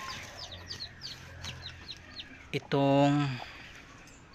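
Young chicks are kept in a cardboard box under a lamp and give repeated high peeping chirps near at hand. A hen clucks loudly once, and a person talks briefly.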